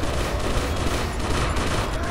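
Video game gunfire crackles in a dense, sustained barrage, loud and close throughout with no pauses, the shots blurring into continuous automatic fire.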